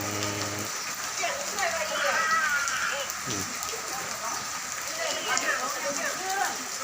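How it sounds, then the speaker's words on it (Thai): Steady rain patters and hisses on a surface throughout, with muffled voices and some indistinct movement underneath. "อันนี้ฝนตกครับอากาศดีฝนตก"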